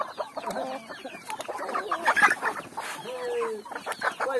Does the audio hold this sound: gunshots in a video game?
no